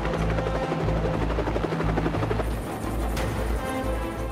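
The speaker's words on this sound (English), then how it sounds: "a squad of 4 Little Bird helicopters, backed up by 4 Black Hawks, launches from naval vessels" Four Little Bird and four Black Hawk helicopters take off from naval vessels, rotors thumping and roaring steadily at close range, a dense rhythmic chop with engine whine, growing busier partway through.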